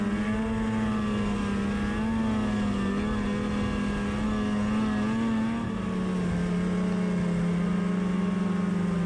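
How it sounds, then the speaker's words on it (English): A 2018 Polaris SKS 155 snowmobile with a 2.6 inch track, engine droning at a steady high pitch with slight rises and dips in revs, close, loud and continuous, no talking. "I'm riding a 2018 Polaris SKS 155"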